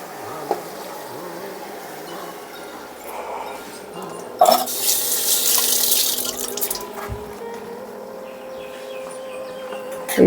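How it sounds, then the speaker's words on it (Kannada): A mixer jar is rinsed under a kitchen tap while making vegetable pulao; soft trickling builds into a louder rush of running water for about two seconds, then eases back to faint drips. "ಜಾರಿಗೆ ಸ್ವಲ್ಪ ನೀರು ಹಾಕಿ ಜಾರ್ನ ಅಷ್ಟೇ ತೊಳೆದು ಹಾಕ್ತೀನಿ"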